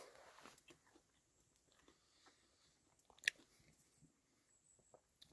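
Someone chews warm bannock with honey at a wilderness campsite in Nopiming: soft, close, quiet bites and a few crunchy chews with pauses in between, and one sharp crisp crunch partway through.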